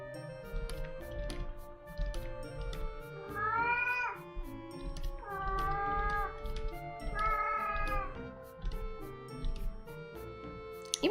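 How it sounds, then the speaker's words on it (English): A pet cat meows repeatedly indoors, several drawn-out, complaining wails in a row with pauses between them, fairly close and clear over faint background ticking. "Even my cat is complaining."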